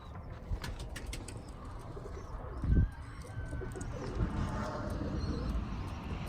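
Birmingham Roller pigeons coo softly amid a brief burst of wing flapping near the middle, with light background noise throughout.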